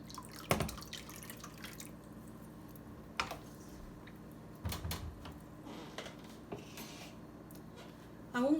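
Faint, irregular drips and small splashes of dissolved aluminum sulfate mixture going into water, spaced out over a quiet background.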